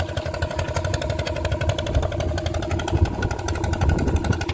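A fishing boat's engine runs steadily on a tidal creek, a continuous close, loud mechanical drone with a fast regular beat throughout.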